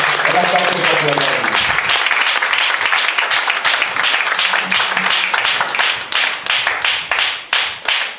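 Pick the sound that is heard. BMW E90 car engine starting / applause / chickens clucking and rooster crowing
applause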